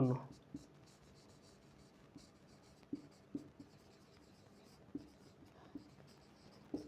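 A pen scratches quietly on paper while notes are taken, with soft continuous strokes broken by several sharp taps at irregular intervals.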